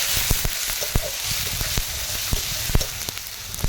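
Ginger paste, turmeric, cumin, salt and chopped tomatoes sizzle steadily in hot oil in a pan, with scattered stirring clicks and scrapes over the continuous close frying hiss.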